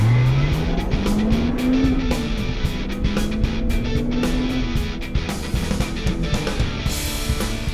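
A car engine revs hard, its pitch climbing steadily to a high howl, easing, then rising again, loud and close with rhythmic ticking underneath.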